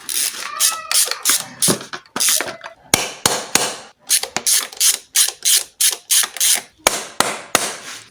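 Ratchet tightening intake manifold bolts on a JTD Mjet engine, sharp rapid clicking bursts repeating in short strokes with brief pauses, close and loud, no voice.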